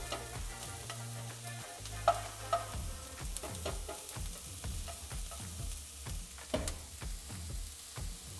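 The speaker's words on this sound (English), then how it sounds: "So do 3 mushrooms. Throw those in. Okay, we're gonna give these a second to cook." Mushrooms frying in a pan give a steady close sizzle, broken by stirring scrapes and light clicks of a utensil against the pan.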